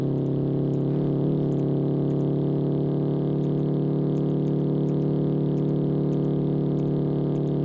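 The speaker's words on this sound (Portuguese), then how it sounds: "Acelerando, galera, acelerando." Steady, loud droning engine note of a 1963 Volkswagen Fusca held under acceleration in BeamNG Drive, a constant buzzing hum with no clear revving rise.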